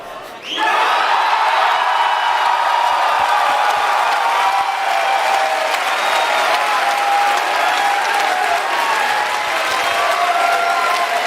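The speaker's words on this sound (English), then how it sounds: "just listen to that crowd" A large crowd bursts into sustained, loud applause, steady and continuous, with scattered cheers mixed into the clapping.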